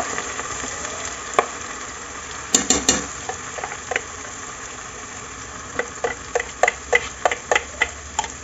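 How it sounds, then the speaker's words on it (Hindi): Finely chopped onions go into a hot frying pan and get stirred, a bed of sizzling under repeated spoon scrapes and taps against the pan that come in quick bursts. "तो हम इसमें डायरेक्ट प्याज डाल देंगे"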